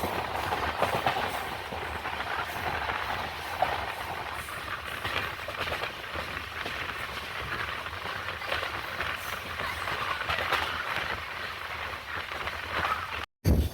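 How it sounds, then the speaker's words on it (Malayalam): Mysuru Express passenger train running toward Kollam Junction, a continuous rumble with rhythmic clickety-clack of wheels over rail joints, heard from aboard, steady and fairly loud throughout. "ട്രെയിൻ അങ്ങനെ കൊല്ലം ജംഗ്ഷൻ റെയിൽവേ സ്റ്റേഷൻ എത്താറായി കേട്ടോ"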